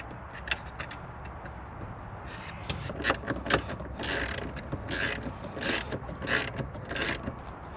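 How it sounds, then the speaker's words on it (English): A ratchet wrench tightens nuts on a Ram Promaster engine, giving repeated clicking bursts over a steady background hum, several quick ratcheting strokes in a row with no talking. "So I got a set of ratchets, and just by put one on the back,"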